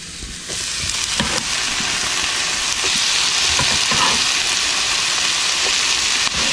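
Onion and garlic frying in a pan for a poblano chile sauce, a loud, continuous close sizzle with dense crackling and a few faint utensil taps, no voices.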